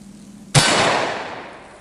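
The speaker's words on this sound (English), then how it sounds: "This is a Taurus Tracker, 44 Magnum. This thing should dent it," A single loud, sharp blast from a Taurus Tracker .44 Magnum revolver fired at level 3 body armor, a sudden crack followed by a long decaying ring, alone after a quiet lead-in.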